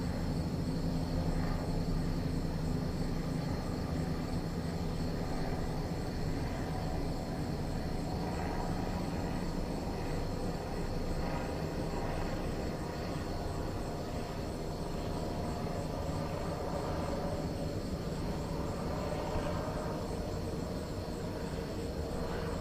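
A news helicopter circles overhead at night, a steady loud rotor and engine drone that persists without pause, captured through a window with no one talking.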